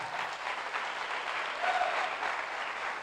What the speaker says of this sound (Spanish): Aplaude a Jesucristo.